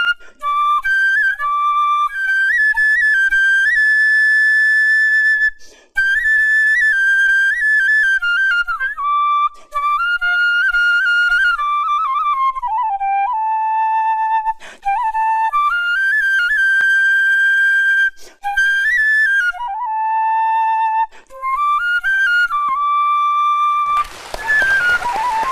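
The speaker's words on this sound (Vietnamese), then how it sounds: "Cái tiếng sáo nó ma mị đi." A bamboo flute plays a slow, haunting melody, loud and close: sustained pure tones with bends and ornaments, phrased with brief breath pauses, ending in a burst of breathy noise.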